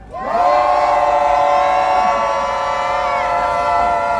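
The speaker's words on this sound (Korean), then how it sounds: "미국을 향해서 분노의 함성 외쳐보겠습니다. 함성 시작!" A protest crowd outside the US embassy lets out a sustained, angry collective roar, many voices shouting together in a loud, steady wall of sound that holds for several seconds.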